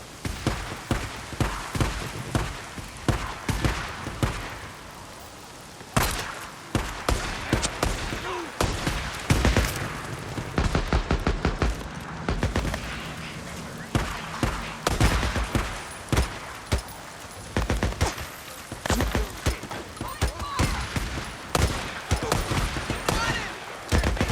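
Gunfire in the video game Days Gone rattles in rapid bursts and repeated sharp shots, loud and near, with brief pauses between volleys across the whole stretch.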